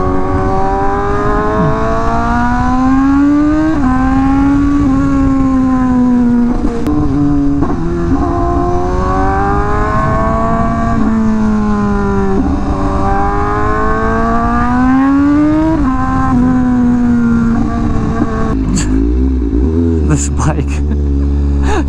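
A Honda CBR Fireblade RRR SP motorcycle engine revs up and down in steady rising and falling sweeps, loud and close, ending with a few sharp bursts and pops.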